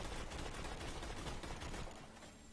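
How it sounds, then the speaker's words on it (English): A Bekah gun in Borderlands 2 fires manually in a dense, rapid volley of gunshots that blurs into a continuous burst for about two seconds, then cuts off to quiet. "I'm going to manually fire the Becca."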